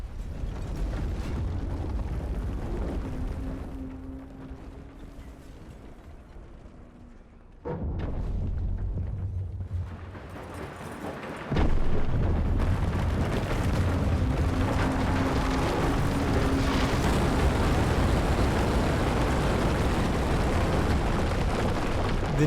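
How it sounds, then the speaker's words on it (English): Loud explosions and crumbling destruction in Battlefield 4 as posts are blown apart, a sustained roar of blasts and debris with sharp onsets around eight and twelve seconds, rumbling continuously to the end. "You can destroy these posts with any sort of explosive device or high-powered round"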